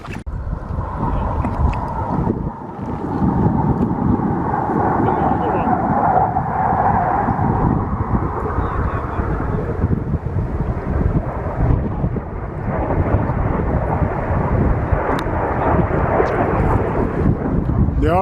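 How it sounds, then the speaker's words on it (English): Loud, sustained roar of RAF military aircraft passing over a group of walkers stopped for lunch on a countryside ramble, rumbling continuously with wind buffeting the microphone. "The RAF always give us a fly pass when we're having lunch."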